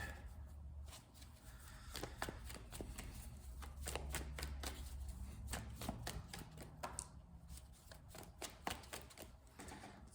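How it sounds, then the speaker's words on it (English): Tarot cards are shuffled by hand in a dense run of soft, rapid riffling clicks and flutters that keep going for about ten seconds, close up and fairly quiet, with a low murmur underneath. "One more shuffle."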